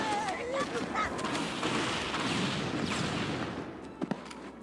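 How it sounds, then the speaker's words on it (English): Explosions and gunfire in the Halo: Combat Evolved video game, with a sustained, dense rumbling roar that fades near the end before two sharp cracks, while voices talk over it. "That's why the explosion thing was dangerous"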